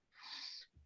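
A single short sneeze, quiet and breathy, followed by a faint low thump.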